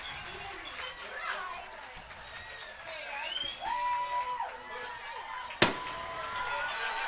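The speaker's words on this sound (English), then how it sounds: "And there goes the firework display." Fireworks go off at a high school football game (Galion at Clear Fork), one sharp, loud bang bursting over a steady wash of distant crowd noise and voices.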